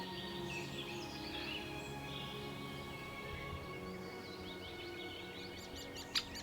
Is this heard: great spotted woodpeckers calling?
yes